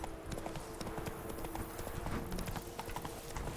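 Roach the horse gallops in The Witcher 3, its hooves clip-clopping in a fast, steady rhythm under a dense layer of game ambience and music.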